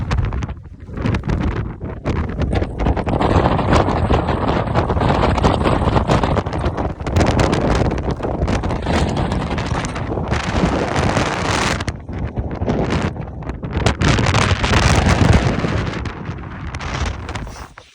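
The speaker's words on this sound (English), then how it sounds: "Very windy." Loud, continuous wind on the Crib Goch mountain ridge in Snowdonia blasts across the microphone, rising and falling in heavy gusts with no other clear sounds.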